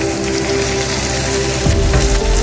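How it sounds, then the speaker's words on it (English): Oil frying in a pan gives a steady, dense crackling sizzle like light rain, close and continuous throughout with no voices. "Oil for frying."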